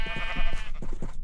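Sheep bleating in the Minecraft video game, a few short wavering bleats in quick succession, fairly close and clear with no talking.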